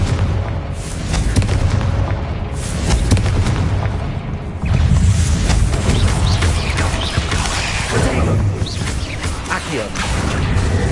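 Confringo fire spells explode in the Hogwarts Legacy video game as loud booming blasts over a dense battle din, with voices shouting among the bursts.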